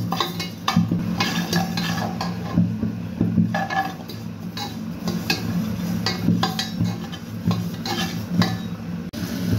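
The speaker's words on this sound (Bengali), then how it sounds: "চুলায় আরেকটা ফ্রাই প্যানে আমি 1/2 কাপ মুগ ডাল নিয়ে নিচ্ছি, মুগ ডাল ভেজে নেব।" Half a cup of moong dal toasting in a frying pan on the stove, with repeated metallic scrapes and clinks of a spatula stirring it in a busy, irregular rhythm close by.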